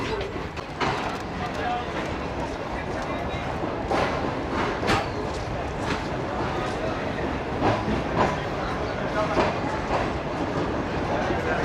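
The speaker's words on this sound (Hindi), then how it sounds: "दोस्तों फैसलाबाद से रवाना होने के बाद अब शालीमार एक्सप्रेस का स्टॉप होगा टोबा टेक सिंह पर" The Shalimar Express, a Pakistani passenger train with a new CRRC AC Standard coach, runs steadily after leaving Faisalabad: a constant rumbling roar with rhythmic clickety-clack wheel beats, and a voice talking over it.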